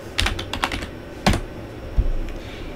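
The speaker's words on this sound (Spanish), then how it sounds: "escribimos nuestra contraseña" Keys clatter on a computer keyboard as a password is typed into an Ubuntu server terminal: a quick run of light taps, a pause, then a heavier keystroke and one more firm press.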